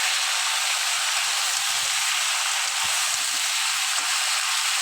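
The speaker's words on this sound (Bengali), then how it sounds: "পেঁয়াজের সাথে লাউটা একটু কষিয়ে" Bottle gourd and onions sizzle steadily in a pan, a dense continuous frying hiss with occasional faint stirring knocks, close and alone without talk.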